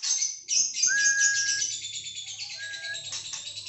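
A white-rumped shama (murai batu), a caged songbird that has moulted twice, sings in bright, rapid bursts of chirps and twittering with clear whistled notes, close and prominent, continuing through the whole stretch.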